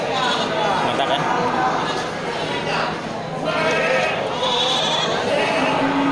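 Goats, including a white-haired one, bleating at a livestock market ahead of Qurban, several calls rising over a busy crowd of people talking.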